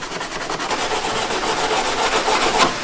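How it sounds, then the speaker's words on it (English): A carbon fiber hood for an AP1 Honda S2000 is sanded by hand, making a loud, close, continuous abrasive rubbing with rhythmic back-and-forth strokes and no talk. "All right, now it's sanded."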